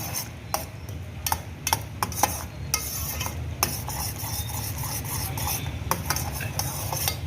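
A spoon stirs homemade sugar wax as it cooks in a pot, giving repeated close scraping clicks over a constant low bubbling sizzle, with no talking.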